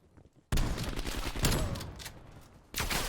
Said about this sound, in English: you can see here I get two shot from about 30 feet away from the same shotgun